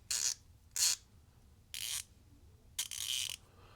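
Side-by-side ratchet wrench backdrag test on an Icon ratchet, giving four short, crisp bursts of rapid clicking separated by brief pauses, close and clear against a quiet background.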